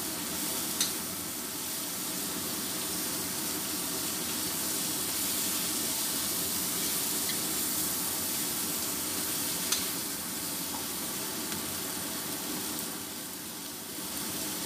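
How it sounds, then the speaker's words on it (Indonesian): Tempeh, green beans and tofu stir-fried in a pan, a steady close sizzle with soft scraping of stirring running throughout, no talk. "saya akan memasukkan bahannya, lalu aduk-aduk sebentar"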